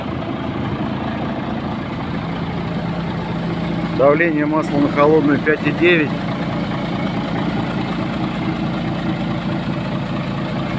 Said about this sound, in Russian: Двигатель работает ровно, слышите?